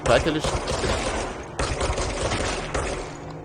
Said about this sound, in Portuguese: Cara, eu vou atirar nos caras aqui.